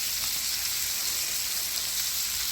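Bacon frying in a pan, a steady dense hiss and crackle of fat sizzling without pause, close and fairly loud, with no voices.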